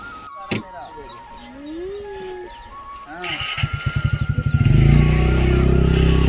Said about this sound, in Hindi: चक्की में बैठी हूँ अभी, तो पिस रहा है मेरा गेहूँ।